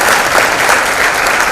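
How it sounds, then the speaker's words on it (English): An audience at an education talk show on design and media breaks into sustained, even applause, a dense wash of many hands clapping close and loud without pause. "Big round of applause for these guys."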